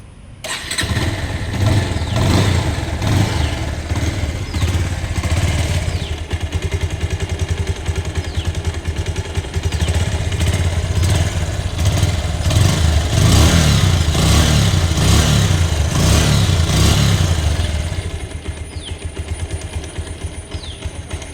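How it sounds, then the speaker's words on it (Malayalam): A used motorcycle engine starts up close by and runs steadily, with repeated revs pulsing over a rough idle before it cuts off near the end, leaving quieter background. "സൗണ്ട് കേൾപ്പിച്ചാൽ നിങ്ങൾ എഞ്ചിന്റെ സൗണ്ട് ഒക്കെ എങ്ങനെയുണ്ടെന്ന് നോക്കി"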